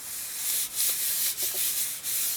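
Sticker paper pressed and folded down onto a journal page, a soft continuous rubbing and smoothing sound with a few brief crinkly touches, close and quiet with no talking.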